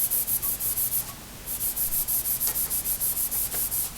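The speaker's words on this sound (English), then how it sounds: "and a little block, and I scuff sand it" A sanding block scuffs along the grain of a wood project before staining, making a steady back-and-forth rasping rub in quick, even strokes, close and alone with no talking.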